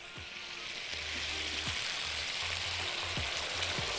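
Broth poured over chicken frying in a pan for a mustard-and-honey sauce dish, giving a steady, close, bright sizzle that hisses continuously with faint low bubbling underneath.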